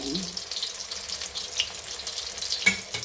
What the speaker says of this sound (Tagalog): ang pagprito ng ating talong